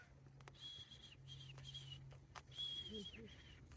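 Several sharp, high-pitched whistle blasts from a Scottish shepherd calling a sheepdog back, some sliding down at the end, sounding over a low steady hum with a little background noise.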